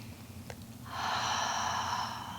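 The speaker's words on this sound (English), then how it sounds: "One more deep breath." A single deep, slow breath is drawn in and let out during a gentle bedtime stretch, soft and close in a quiet room.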